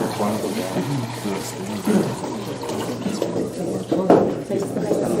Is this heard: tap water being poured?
yes